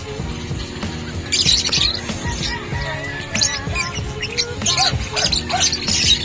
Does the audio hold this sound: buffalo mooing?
no